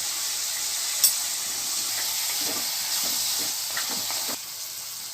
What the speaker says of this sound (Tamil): இது வதங்குது. இது வதங்கட்டும்.